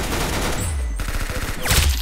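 Rapid automatic gunfire in the Roblox shooter Arsenal, a loud close fusillade of fast repeating shots that rattles continuously and swells near the end, with no talk over it.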